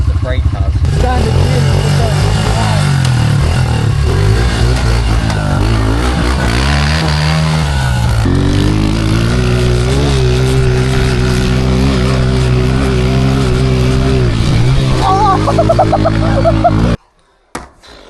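A Honda CRF125 pit bike engine rides a dry dirt track, droning loud and close with rising and falling revs, dipping and climbing in pitch midway before cutting out abruptly near the end.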